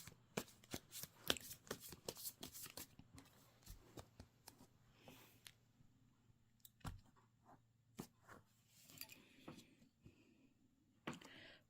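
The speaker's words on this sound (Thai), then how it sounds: "ขอเป็นตัวแทนสับไพ่ให้คนเกิดวันอังคารค่ะ" Tarot cards are shuffled by hand close up, with dense rapid riffling and clicking bursts in the first few seconds, then sparser, scattered card snaps and taps.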